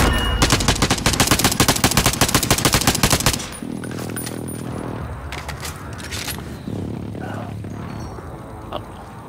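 Rapid machine-gun fire from a video game, loud, close and continuous for about three seconds, then it stops abruptly and only faint distant shots and game ambience remain.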